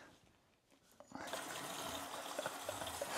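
After a quiet start, a foot plunges into a basin of warm soapy water, bringing a sudden broad sloshing, rushing splash that continues steadily and close by.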